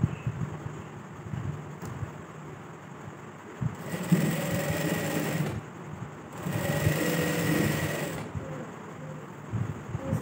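A sewing machine stitches lining onto a dupatta, its fast mechanical whir running close and continuous, rising into two louder bursts of steady stitching separated by brief slower pauses, with no speech.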